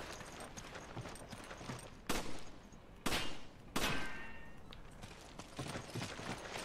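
Gunshots ring out in Resident Evil 5, three sharp loud cracks spaced about a second apart amid softer game ambience and clatter.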